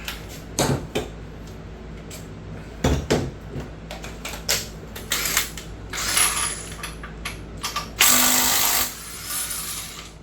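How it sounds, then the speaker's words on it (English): A ratchet wrench clicks in short bursts while the crank bolt is loosened from a HEMI engine crankshaft, with metallic clanks, knocks and a louder spinning ratchet run near the end. "Now we're going to take the crank bolt out."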